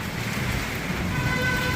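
Heavy rain pours down while strong wind roars, forming a dense, steady wash of noise with no breaks.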